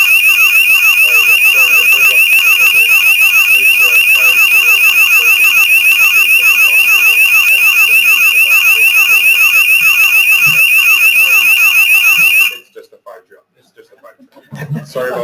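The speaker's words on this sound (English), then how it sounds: "I think it's my alarm." An alarm goes off during a talk, a loud, piercing electronic beep pulsing rapidly and continuously for about twelve seconds before cutting out abruptly, with faint voices afterward.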